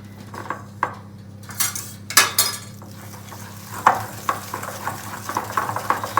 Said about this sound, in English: So now let's take a whisk and make it creamy.